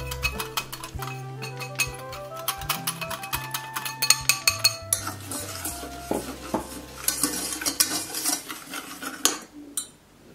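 A utensil stirs sugar and cornstarch in a small pot, giving quick, repeated clinks and scrapes against metal in an irregular rhythm, close up, with no voices.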